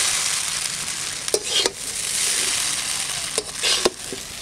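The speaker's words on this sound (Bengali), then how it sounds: "দেখছো এত বড় কড়াই, তবুও মনে হচ্ছে নাড়তে কষ্ট হচ্ছে।" Chicken chow mein with vegetables is stirred and tossed in a large wok over steady frying sizzle, with a few sharp scraping and clanking strokes of the utensil against the metal, close up and without talk.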